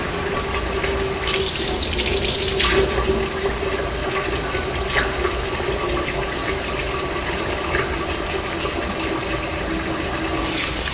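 Water runs steadily from a kitchen tap in a cooking setting, a continuous close hiss and splash that stays level throughout, with a brief stronger gush near the start and no talking.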